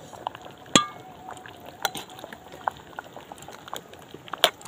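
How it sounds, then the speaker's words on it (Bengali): Spice mix stirred into a pot of vegetable khichdi with winter vegetables, a soft bubbling simmer broken by a few sharp clinks of a spoon against the pot. "মশলাটা দেবো আর এইভাবে নাড়াচাড়া করে দেবো।"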